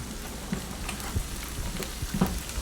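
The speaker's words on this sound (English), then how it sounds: "I'm just going to do 3 eggs sunny side up like this" Three eggs frying sunny side up in a pan, giving a steady soft sizzle with occasional small pops and crackles, heard alone with no talking.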